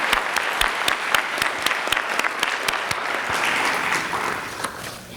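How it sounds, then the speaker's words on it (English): Audience applause at a high school extracurricular awards night, steady clapping from a sizable crowd that swells and holds for several seconds before easing off. "we'll just give her a round of applause"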